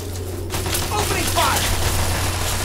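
Gunfire in the video game Fallout 3: a short burst of rapid shots over a steady low game hum, fairly loud and close, with a voice briefly heard.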